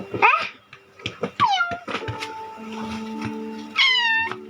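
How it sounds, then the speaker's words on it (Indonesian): A cat meows several times in short, rising and falling cries, fairly close and clear, with a low steady hum running underneath during a home makeup session. "Kucing."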